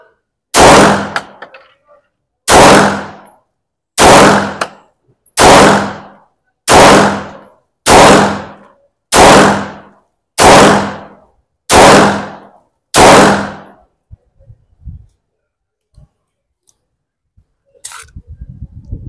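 An AREX Zero 1 Tactical pistol fires ten loud, close, crisp shots in a steady, evenly spaced cadence of about one per second, each with a short decaying tail, followed by quiet and faint handling noises.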